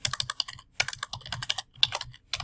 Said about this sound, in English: So I'm going to be typing those.